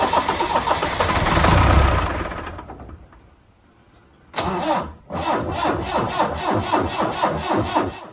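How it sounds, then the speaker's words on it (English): Range Rover Classic engine cranking without firing, a loud rhythmic starter churn that stops, pauses in near silence, then resumes in a steady repeating cadence close by. "the engine continued to just crank but not fire"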